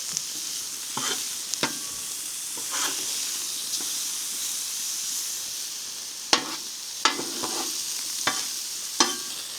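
Thin pieces of food fry in a pan at a bison-country campsite in Theodore Roosevelt National Park after being flipped, a soft steady sizzle punctuated by intermittent sharp scrapes and taps of a utensil.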